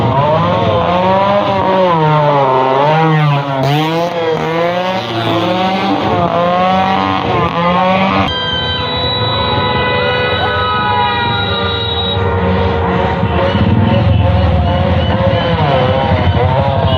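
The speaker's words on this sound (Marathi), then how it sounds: "निमित्त होते उलट्या दिशेने धावणाऱ्या रिक्षाच्या शर्यतीचे" Auto rickshaws race in reverse at the Renuka Mata fair in Walwa. Their engines rev loudly and continuously, with wavering siren-like tones rising and falling over a steady roar from start to finish.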